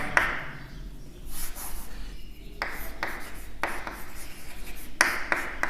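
Marker squeaking across a board while highlighting during a genetics lesson: repeated rubbing, hissing strokes, close and moderately loud, in short bursts with brief pauses between.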